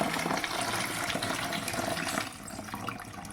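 Running water splashes over fish as it is rinsed and rubbed with salt for a village-style fish curry. A steady close gush fills the whole stretch, easing slightly near the end, with no talk.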